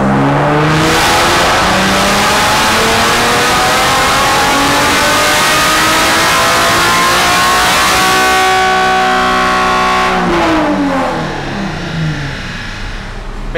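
Car engine revving hard with rising harmonics, then bouncing off the rev limiter with a choppy cut before falling back, loud and close throughout, after fitting a performance part.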